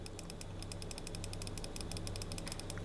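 Extra button on a Razer Kishi V2 controller clicks in a fast run of small, crisp taps, faint and close over a steady background hiss.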